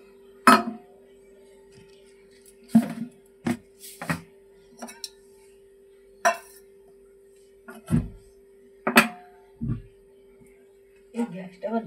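A kadai wok is set down on a gas stove amid a string of sharp metallic clinks and knocks, a dozen or so irregular close hits over a steady low hum, with a person speaking between them.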